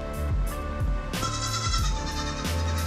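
Baby goats bleat in a barn, several overlapping calls standing out clearly above a busy, continuous background.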